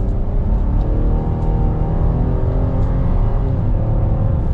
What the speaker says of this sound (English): from second gear, we'll just give it a little bit of gas